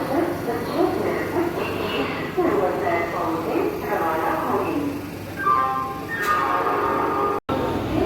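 A local train bound from Kolkata to Digha rumbles along steadily with a continuous low roar and rattle, while people talk over it throughout.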